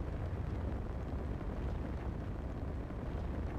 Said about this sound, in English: I hear fire.